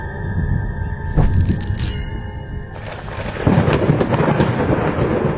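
Thunder rolls in ahead of rain, loud and close, with a sharp crack followed by deep rumbling that swells again toward the end, a continuous stormy roar and no voices.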